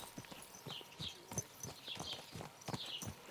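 Horse hooves clip-clop at a walking pace in Kingdom Come: Deliverance 2, irregular steps on uneven ground, fairly close, with outdoor ambience and no speech.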